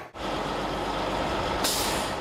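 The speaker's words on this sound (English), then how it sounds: "behind me you can see some of the trucks and equipment they're using to clean up the site" Heavy trucks and cleanup equipment work at a train derailment site on Long Pond Road, a steady loud engine rumble with air-brake hiss and a sharp high hiss near the end, no talk.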